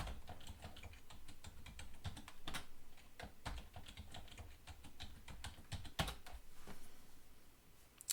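Someone types a root password on a computer keyboard during an OpenMediaVault server setup, giving a quiet, close run of irregular clicky keystrokes with short pauses and a few sharper taps.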